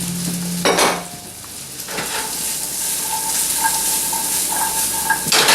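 Chickpeas hit hot oil in a home kitchen pan, giving a steady broadband sizzle throughout with a sharp burst as they go in and light scraping or stirring clatter, close and fairly loud with no talk.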